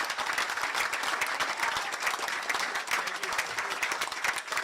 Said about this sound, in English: Let's give a big round of applause for our finance chair, Jeff Williams.